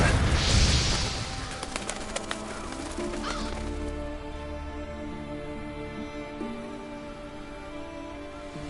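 Revolture scavenger birds in the Monster Hunter World video game caw and flap, loud at first and then trailing off behind a steady ambient game hum.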